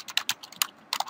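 Typing on a computer keyboard: a quick run of about eight to ten crisp, close key clicks in uneven rhythm, with no one talking.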